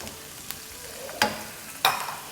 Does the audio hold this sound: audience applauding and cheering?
no